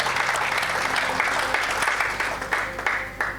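A church congregation claps in praise of the Lord, steady dense applause filling the whole stretch, loud and close with a few sharper claps near the end.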